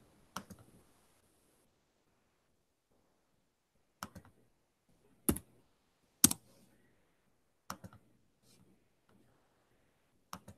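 Sharp, isolated clicks, likely from a computer mouse, land one or two at a time at irregular intervals several seconds apart, close and crisp against near silence.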